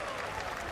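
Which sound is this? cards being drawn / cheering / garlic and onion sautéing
cheering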